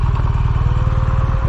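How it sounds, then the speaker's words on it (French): A BMW R1200GS motorcycle sits idling, its engine giving a loud, close, steady low throb with an even pulsing rhythm throughout and no talk. "je laisse volontairement moteur tournant"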